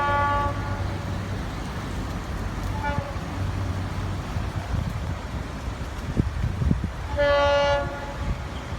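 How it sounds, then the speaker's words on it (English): A Florida East Coast Railway local freight led by engine 411 approaches at Stuart, Florida, sounding its horn in several blasts over a steady rumble of the passing train. "I've got a very good view of the train. It's coming down from northbound."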